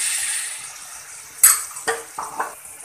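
Chopped tomatoes tipped into a hot pan with coarsely ground spices for a no-garlic, no-onion kankoda (spiny gourd) sabzi, giving a soft sizzle followed by a few sharp spoon-and-pan clinks as they are stirred.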